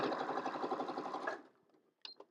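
A sewing machine runs steadily, stitching pieces of a patchwork plus-sign quilt block, then stops abruptly, leaving quiet with a couple of small clicks and handling noises afterward.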